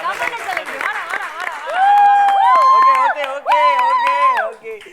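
A studio audience at a Tamil television game show claps and cheers, with scattered claps under loud, drawn-out whooping voices that rise and fall.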